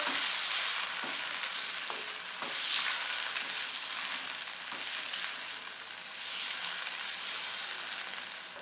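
Chicken karahi sizzles loudly in a pan as whisked yogurt is stirred in, a dense continuous frying hiss with occasional faint scrapes of the spoon.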